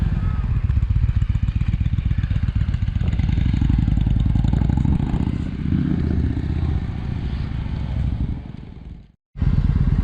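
A 2012 Victory Highball motorcycle rumbles loud and close with a steady, throbbing engine note that shifts in pitch as it rides, cutting out briefly near the end before resuming.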